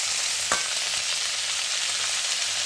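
Chopped raw tomatoes, fresh-picked, hit a hot frying pan with a steady, loud hiss of sizzling oil, a brief sharp crackle near the start, then continuous frying with no voices.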